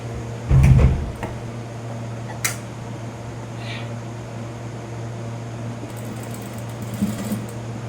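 Sewing machine back-stitching the side seam of a chudithar, one short loud burst of stitching near the start, then a steady motor hum with faint handling clicks.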